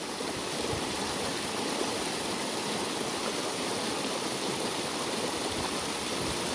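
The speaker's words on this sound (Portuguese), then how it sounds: "Esse é um córrego que fica a 12 quilômetros da minha cidade." A stream rushes steadily nearby, a constant broadband water hiss with no pauses or voices.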